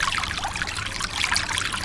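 Water flowing through a broken earthen embankment of a farm field, a steady close rushing trickle with bubbling splashes that runs continuously and evenly, with no voices.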